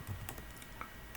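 Keystrokes on a computer keyboard as a router command is entered during a network routing demo, a few soft clicks spread across a quiet moment with no talking.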